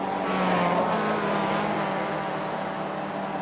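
Mazda MX-5 race cars racing at Bathurst, with a loud continuous engine drone and tonal whine from cars nearby at speed that holds steady throughout.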